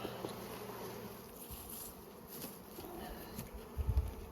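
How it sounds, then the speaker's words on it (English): Honey bees buzz around an open hive during spring management of the brood box, a steady close drone of many wings with a few louder passes near the end. "I need to give this hive a couple of shakes of young nurse bees as well"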